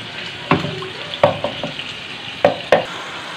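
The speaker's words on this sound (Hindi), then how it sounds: "ऑयल डाल के हमें साथ साथ इसे भून लेना है" Kebab masala cooks in freshly added oil, a low sizzle broken by several sharp clinks and scrapes of a spoon stirring the pan.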